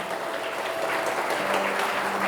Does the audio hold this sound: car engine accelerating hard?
no